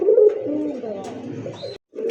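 A pair of red indigo Rasgolla pigeons coo close by, a low throaty rolling murmur that carries almost continuously before a brief pause and a fresh coo.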